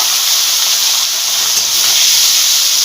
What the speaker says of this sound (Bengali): এবার এগুলোকে ভেজে নেব তেল গরম হয়ে গেছে তার মাছগুলো দিয়ে দেব